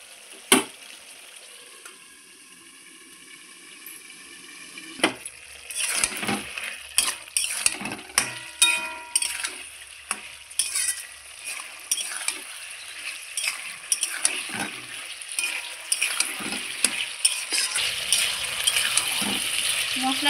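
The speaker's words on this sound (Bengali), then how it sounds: "মশলাটা দিয়ে আবার খুব সুন্দর করে আমি নাড়াচাড়া করে নিয়ে একটু জল দিয়ে দিচ্ছি।" Hilsa fish head and mixed vegetables are stirred with spices in a pan, with a spoon scraping and clinking repeatedly against metal over a soft frying sizzle, close and busy.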